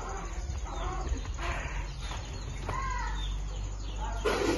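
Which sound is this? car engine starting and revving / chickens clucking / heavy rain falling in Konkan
chickens clucking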